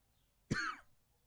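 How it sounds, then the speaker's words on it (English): A single short cough sounds close by, a brief rough burst that fades over a fraction of a second, faint and alone. "I don't know why I have little coughs today"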